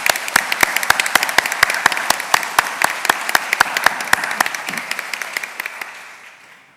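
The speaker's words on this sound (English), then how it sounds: "give Anna and the whole team a big round of applause for all they did." Audience applause at a school's opening parent meeting, a crisp, even run of claps close to the microphone over a broader crowd clapping, gradually thinning and fading out.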